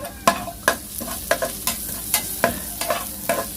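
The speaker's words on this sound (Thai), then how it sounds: "ใส่กระเทียมไปผัดครับ" Garlic stir-fries in a hot pan, with about ten sharp, evenly spaced spatula strikes over a bright, crackling sizzle.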